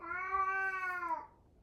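A domestic cat gives a single clear, drawn-out meow close by, fading away, with no talking.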